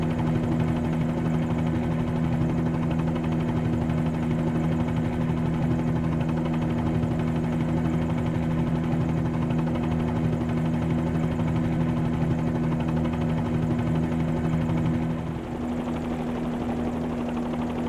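Simulated helicopter with its governor engaged, spooling up just before lift-off: a steady, loud turbine whine and rotor drone with strong low harmonics, holding constant before a slight shift near the end.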